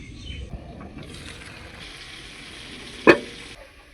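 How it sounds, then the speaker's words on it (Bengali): Mixed vegetables in a pot being stirred after steaming under a lid, with spinach about to go in; soft scraping and gentle sizzle close by, broken by one sharp clack of the spoon against the pot. "সবজিগুলোকে নাড়াচাড়া করে নেব"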